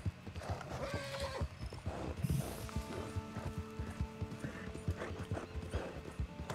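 Hooves clop in a steady trotting rhythm from a horse in the video game Red Dead Online, with creaking tack and a brief whinny mixed in, close and moderately loud.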